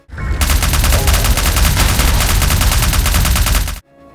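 Rapid autocannon fire from an upgraded SMG in the retro shooter INCISION, a loud, continuous burst of evenly spaced shots lasting several seconds before cutting off abruptly.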